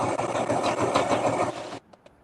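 A sewing machine runs in a fast, steady whirring burst for under two seconds, then stops abruptly, leaving a couple of faint clicks.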